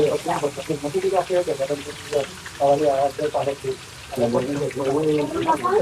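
Green chillies crackle and hiss in a pan of hot oil while someone talks loudly over them almost continuously. The frying is a low background sizzle between his phrases.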